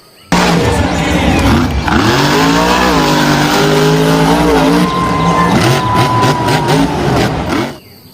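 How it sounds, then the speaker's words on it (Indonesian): Toy monster truck producing a loud electronic engine-revving sound effect with rising and falling tones and squealing, sustained for several seconds close up. "yang ini mobil truk monster"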